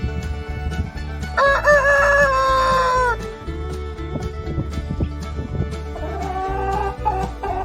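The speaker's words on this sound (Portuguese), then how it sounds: "Galo, rooster." A rooster crows loudly over a farmyard backdrop with other animal noises, one long drawn-out cock-a-doodle-doo standing out near the start.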